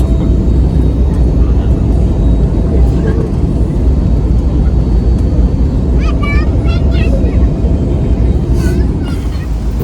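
Loud, steady roar of an airplane cabin on landing approach to Singapore with deep engine drone; faint voices and brief chimes rise over it near the end.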